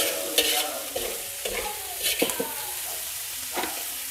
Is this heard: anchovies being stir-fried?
yes